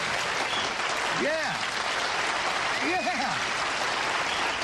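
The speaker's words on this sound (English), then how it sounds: "Let me hear that applause. Let me hear applause." A studio audience of a late-night talk show applauds steadily for several seconds, a dense clapping wash with a voice briefly speaking over it.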